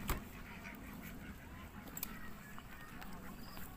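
Ducks and geese on a farm in Tagaytay give off faint honks and quacks amid steady outdoor background noise, with no voices over them.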